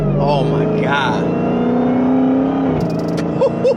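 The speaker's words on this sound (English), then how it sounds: "The snaps in between gears sound ridiculous now." Car exhaust fitted with Stainless Works catless mid pipes, droning loudly as the engine pulls through a gear, then sharp snapping pops between shifts near the end, close and alone.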